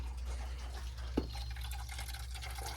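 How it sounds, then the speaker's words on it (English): Coolant drains from the radiator of a Mazda NB Miata as a steady liquid stream, trickling and splashing continuously under a constant low hum, with one brief knock partway through. "We got the coolant drained."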